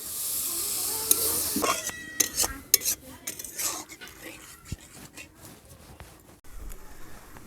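Water poured into a pan of sizzling spice paste for a Bengali small puti fish curry, a loud hiss and spatter followed by stirring and the clink of a metal spoon against the pan.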